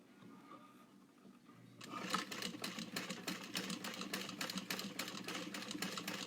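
A sewing machine stitches a 1/4 inch seam at a number 3 stitch length, starting after a quiet lead-in and running as a steady, close, rapid mechanical chatter while it sews forward and back to secure the seam.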